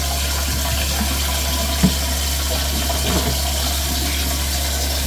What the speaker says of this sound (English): So I will put cold water for yeah